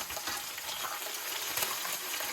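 Moose meat frying in a pan, with a steady, even sizzle that holds at a constant moderate level throughout, close by and with no voices.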